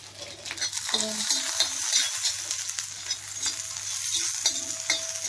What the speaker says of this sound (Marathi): कांदा पण खरपूस, एकदम खरपूस भाजायचा, त्यामुळं टेस्टी होते.